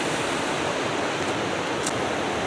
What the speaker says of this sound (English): There's a lot of water running through here than normal.